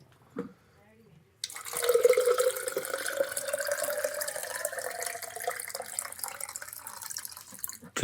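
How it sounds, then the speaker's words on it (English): After a brief knock, water rushes from a tap into a container, a steady close hiss and splash that continues for several seconds. "Just filling up some water here."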